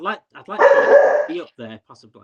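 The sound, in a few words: dog barking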